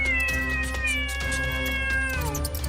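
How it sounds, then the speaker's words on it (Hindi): A cat meows in a long, drawn-out caterwaul, close and clear over a soft musical bed. "अचानक एक दिन उस घर में शिकार करने के लिए कहीं से एक बिल्ली आ गई"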